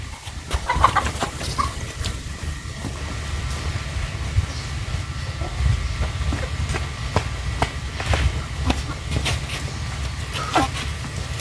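Backyard chickens at feeding time, clucking while they peck. Soft, scattered clucks and sharp tapping pecks sit over a steady low rumble of background noise throughout.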